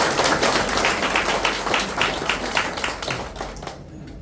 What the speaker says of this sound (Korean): 이 모든 분을 위해서 박수 한번 치드리겠습니다